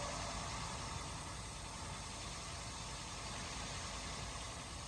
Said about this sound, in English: It sounded like a diesel, didn't it? It seems like it's got a slight misfire too.